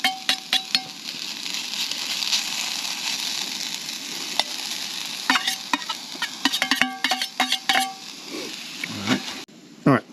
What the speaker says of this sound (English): I got the lard melted in there now, and I've rehydrated these potatoes and let them go back in the pan.